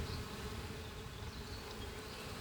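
Honey bees buzz around an opened hive as frames are lifted out, a steady, dense hum of many insects close by, faint overall, with no talk.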